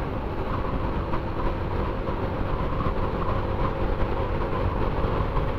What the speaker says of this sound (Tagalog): Iba na rin ang tunog ng makina ni Masi pagka ganitong sagad.